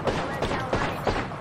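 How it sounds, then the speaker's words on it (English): Artillery strike in Apex Legends, a run of rapid booming impacts pounding in quick succession, loud and close, with dense crackling bursts repeating about every third of a second. "Oh, artillery strike on us."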